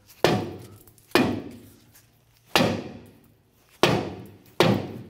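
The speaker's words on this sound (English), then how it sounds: "we're gonna go ahead and use our dead blow hammer" A dead blow hammer whacks a stuck rear brake drum on a 1993-1997 Ford Ranger: five sharp, heavy thuds spaced unevenly about a second apart, each ringing briefly before fading, with no talk.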